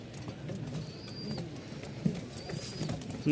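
Low, soft coos from a pair of pigeons at a pigeon farm murmur steadily through a quiet background, with a few faint higher bird calls drifting in.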